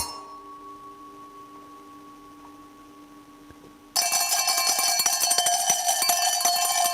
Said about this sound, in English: Oh my god, he broke out the cowbell.